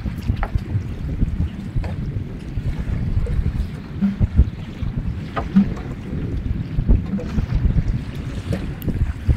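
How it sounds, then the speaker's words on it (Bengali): Wind blows steadily across a small fishing boat on a tidal river in the Sundarbans, a low, gusty rumble buffeting the microphone with faint water and boat sounds beneath. "সুন্দর হাওয়া দিচ্ছে"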